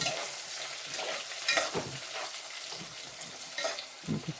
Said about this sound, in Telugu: ఇప్పుడు ఉల్లిపాయలు కొంచెం మగ్గినాయి కదండి, చూడండి.